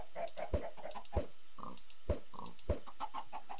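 Several short pig oinks from farm pigs in a block-building video game, spaced irregularly and sounding fairly close, with no talking.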